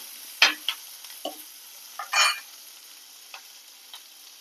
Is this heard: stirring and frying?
yes